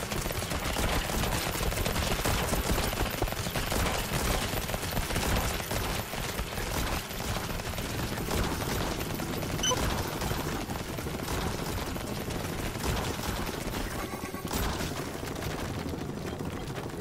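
Defense towers in the video game Lumencraft fire over a gate at attacking enemies, producing a dense, continuous stream of rapid shots and impacts that stays loud throughout within a busy mix of game sounds.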